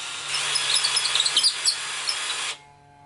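A power drill bores a hole into a prop saber, whining steadily at close range for about two and a half seconds with slight wavering as it bites, then cutting off abruptly into near silence.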